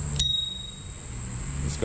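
A single bright ding from the stock bell on a Hero S9 electric scooter rings out sharply and then holds as a fading high tone over low background rumble.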